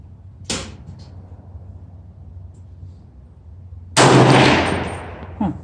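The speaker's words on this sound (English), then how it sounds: "second shot with Barnes tip with 300 Blackout at 25 yards" Two loud 300 Blackout rifle shots fired with Barnes VOR-TX 110 gr tipped rounds at a 25-yard range: a sharp crack near the start, then a heavier blast later that rings out and decays over a few seconds.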